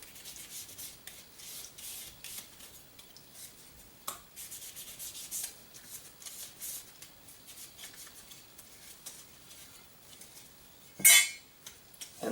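Lubricant wax is rubbed inside a part of a Zastava M70 AK-47 rifle, giving a faint, continuous scraping and rubbing with light clinks of metal and one sharp clatter near the end.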